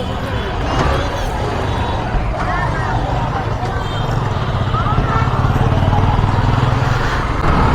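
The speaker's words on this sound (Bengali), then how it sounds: "ফার্স্ট টাইম বিজয়ের বাইক চালাচ্ছি গাইজ। এটা হচ্ছে হন্ডা সাইন।" Honda Shine motorcycle ridden at dusk out of Eco Park in Kolkata, its steady engine drone running close and continuous beneath a busy crowd and traffic babble.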